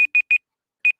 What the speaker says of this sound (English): timer is now up.